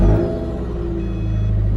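A 2008 Subaru Impreza fitted with a DNA Motoring exhaust runs close by, giving a steady, loud, low engine rumble that swells slightly, with no talk.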